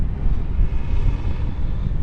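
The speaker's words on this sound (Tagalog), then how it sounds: "Sobrang lakas talaga ng hangin." Strong wind on a balcony at night roars and buffets against the microphone, a low, rumbling gusty rush filling the clip with no voices.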